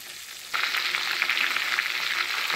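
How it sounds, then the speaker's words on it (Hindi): Chicken pieces frying in oil over a low flame for KFC-style fried chicken, a steady, close hiss and crackle of sizzling that starts abruptly and carries on evenly, with no voices. "मैं इसे लो फ्लेम पे चारों तरफ से पलट कर पका रही हूँ।"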